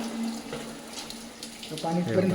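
Water runs steadily with a hollow, echoing ring, and a voice briefly joins near the end.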